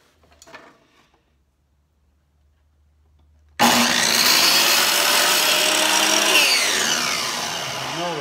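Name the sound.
miter saw cutting wood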